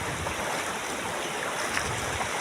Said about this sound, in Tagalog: Ang dami ng tubig!